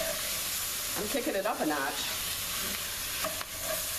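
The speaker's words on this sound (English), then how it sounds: "And it's supposed to sizzle. It's sizzling, all right." Steady broadband sizzle of vegetables frying in a hot pan, with a person talking briefly over it midway.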